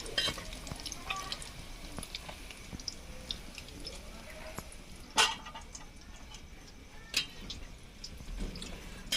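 Paneer cubes frying in hot oil in a pan, a soft crackling sizzle with scattered pops and ticks, fairly quiet and steady, with a couple of louder clinks.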